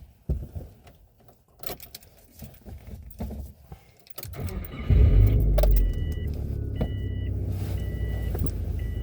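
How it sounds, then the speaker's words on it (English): Keys jingle and a door clunks before an engine turns over and settles into a steady idle, with a repeating electronic chime sounding over it. "I gotta warm this car up."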